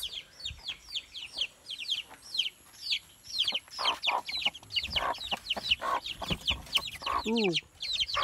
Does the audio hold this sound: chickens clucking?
yes